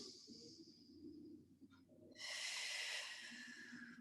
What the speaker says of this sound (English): It might feel funny breathing in through your nose and breathing out from your mouth so loudly